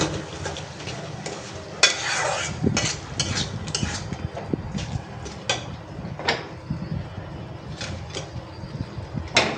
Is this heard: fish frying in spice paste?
yes